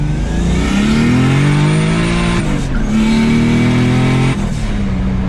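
A loud turbocharged BMW E30 with a 3.0L M52 engine revs up hard while driving, pitch climbing through gears with brief breaks at each shift, close and continuous.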